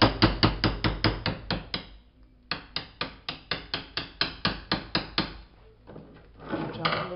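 A wedge is hammered into place on a lathe with two quick runs of about ten sharp, evenly spaced metallic blows, separated by a short pause. A scraping rustle follows at the end.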